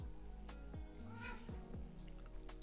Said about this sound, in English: My cat's going a little crazy.